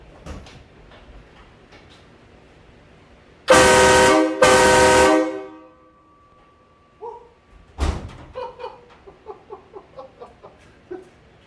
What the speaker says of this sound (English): So the kit is a Horn Blasters kit. It's a Nightmare Edition. It is freaking loud.